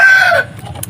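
A rooster crows loudly and close by in a backyard garden among potted bougainvilleas. The single crow holds for under half a second, then fades into soft clucking from the chickens.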